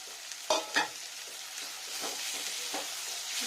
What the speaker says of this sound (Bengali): এবারে দিয়ে নিচ্ছি মেথি শাকগুলো জলটা নিংড়ে দিয়েছি